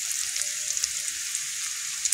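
Spices fry in hot oil for a lote fish curry, giving a steady high crackling sizzle with scattered pops, close and continuous with no talking.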